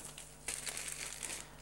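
A plastic packet from a military dry ration pack crinkles close by. There is a faint rustle, then a sharp burst of crackling plastic that continues in irregular crunches.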